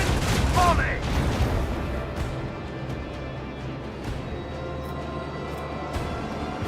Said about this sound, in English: Macro cannon, volley!